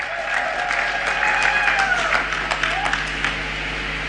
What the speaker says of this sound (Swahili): Hebu jiongezeni makofi.